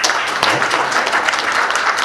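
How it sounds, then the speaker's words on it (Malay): A talk show audience gives a round of applause at an evening event, producing a dense burst of clapping from many hands that is fairly loud and close, with no one speaking. "beri satu tepukan"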